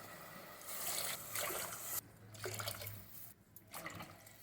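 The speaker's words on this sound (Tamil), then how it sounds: "இதில் 5 டம்ளர் தண்ணி ஊற்றுறேன்." Water is poured into a pot to make rice kanji for Ramadan. The splashing comes in several uneven bursts with brief pauses between them, fairly close and moderately loud.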